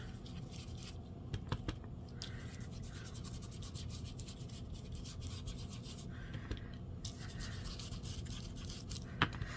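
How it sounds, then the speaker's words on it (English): An ink pad or applicator rubbed firmly onto a paper craft tag, a soft continuous brushing scrub with small scratchy accents, close and quiet over a low steady hum, no voices. "I'm rubbing kind of hard because I don't want to get too much ink on"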